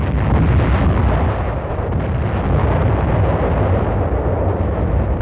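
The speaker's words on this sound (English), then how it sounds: "ships of the UN fleet fire point blank at the island." Naval ships of the UN fleet fire point blank at Wolmi island off Korea, a loud continuous roar of blasts and rumbling explosions that fills the whole stretch, dense and distorted.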